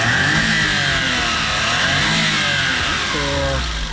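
A mini van's engine revs hard, a loud continuous mid-pitched roar whose pitch rises and falls across several throttle blips, heard close and alone.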